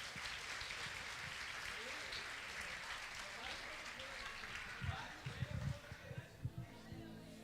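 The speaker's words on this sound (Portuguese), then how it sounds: "Salva de palmas para os nossos irmãos" A church congregation gives a steady, faint round of applause for fellow brothers during a sermon, a dense wash of clapping that thins out near the end, with a few louder thumps and a voice starting to talk as it fades.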